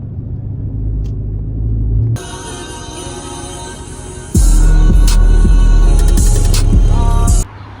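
A widebody SRT car rumbles while driving, a deep steady engine drone with low throbbing that swells louder midway and holds before dropping back near the end, with no talk.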